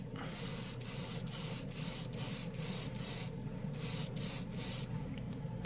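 A spray gun lays a coat of paint in a rapid run of pulsing hissing passes, loud and close, with a steady low rumble under the bursts and no talk.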